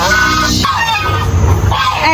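Geese at a farm give loud, close honking calls in short bursts, several overlapping cries over about two seconds.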